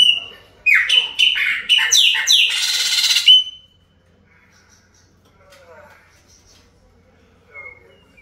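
A chopi blackbird (pássaro preto) sings a loud, close burst of rapid whistled and chirped notes for a few seconds, then falls to quieter, sparse calls with a brief final phrase.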